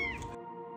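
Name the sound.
kitten crying while stuck in a ceiling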